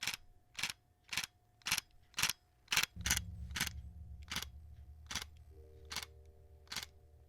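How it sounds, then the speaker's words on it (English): A Nikon Zf's mechanical shutter fires about a dozen times at a steady pace, each click sharp and close, with a low background hum joining halfway through. "There is a mechanical shutter in this, and I do like the sound of that too."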